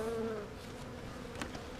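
Honeybees buzz steadily at an open hive, a close, continuous drone with a few individual bees whining past, and nobody speaking.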